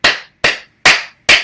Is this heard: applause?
yes